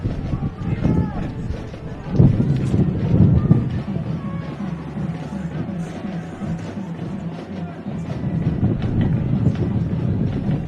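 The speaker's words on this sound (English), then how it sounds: "Yeah, gotta love this wind." Wind buffets the microphone at an outdoor high school football game, a steady low rumble and roar with gusts that swell and ease, heard under ongoing commentary.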